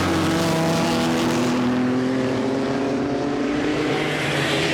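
Vintage Maserati 6CM six-cylinder race cars at speed during the Varzi Trophy race, a loud, steady engine roar with rising pitch as the cars hold close together, continuous throughout with no talking.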